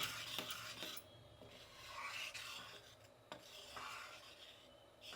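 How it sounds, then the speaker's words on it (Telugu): A spoon rasping and scraping through thick Mysore pak batter in a pan, with repeated rhythmic rubbing strokes, fairly faint and close, with no talk. "మైసూర్పాక్ అంటేనే ఇలా బాగా కలపాలండి, కలుపుతూనే ఉండాలి, అప్పుడే మనకు మైసూర్పాక్ బాగా వస్తుంది."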